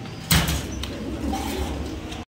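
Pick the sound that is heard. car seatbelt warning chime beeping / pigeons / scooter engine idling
pigeons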